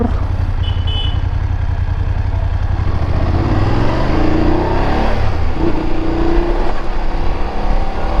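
A BMW F850 GS motorcycle rides over a deep pothole, its engine droning loudly and steadily throughout with road and wind rumble and a brief thump as the wheels cross the hole.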